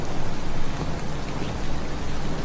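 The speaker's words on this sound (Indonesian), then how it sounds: "Dari tadi gak kelar-kelar nih hujan." Heavy rain pours down in a dense, loud, steady hiss of drops hitting surfaces, unbroken and alone with no voices.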